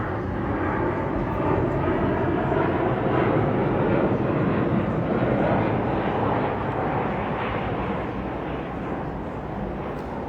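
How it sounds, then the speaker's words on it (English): A plane passes overhead as a steady, broad rumbling roar that fills the whole stretch at a constant, fairly loud level and fades only slightly toward the end. "there's a plane coming there."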